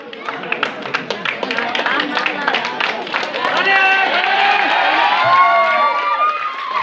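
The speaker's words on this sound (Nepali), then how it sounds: "जोरदार ताली लगाइदिनु होला, जोरदार।" A crowd at a school sports closing ceremony, the rural-municipality-level third President Running Shield, claps in a quick burst that gives way to cheering and overlapping voices, close and lively.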